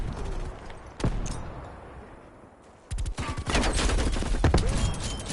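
Gunfire in a zombie video game, with a single sharp shot followed after a quiet gap by a rapid, loud burst of repeated shots.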